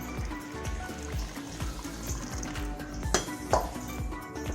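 Rice flour being stirred with hot water in a pot, a spoon knocking and scraping steadily against the metal in a quick rhythm, close and fairly loud, with a couple of sharper clinks near the end.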